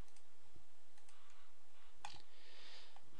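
A computer mouse clicks on column headings in data-sorting software, giving a few faint, sharp, isolated clicks over a quiet low hum, with no voices.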